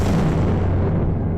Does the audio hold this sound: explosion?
yes